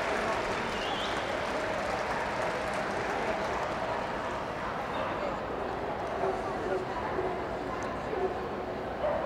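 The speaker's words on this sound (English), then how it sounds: "As Angela and Lily leave the ring, let's give them a big round of applause." Crowd in the ring at Crufts 2017 applauds a handler and her dog leaving an Inter-Regional Rally Level 6 round, with a sustained wash of clapping and a few faint dog noises mixed in.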